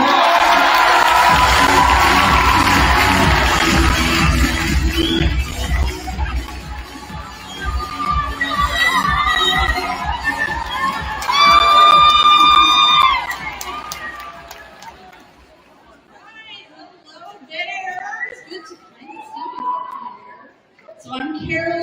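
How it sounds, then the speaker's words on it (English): A crowd in a gym at a women's varsity basketball game cheers and claps loudly, with shouting and whoops that swell and then fade into quieter chatter and scattered voices. "let's give a round of applause"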